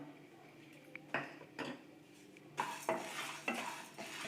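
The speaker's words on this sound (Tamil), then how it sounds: "இப்போ இந்த பருப்பு வகையில் கொஞ்சம் நம்ம சூடாகவே வறுத்துக்கலாம்" Chana dal, toor dal and fenugreek seeds are dry-roasted and stirred in a pan on the stove, with scattered scraping and clinking of a spoon against the metal, a few louder strokes and a faint hiss beneath.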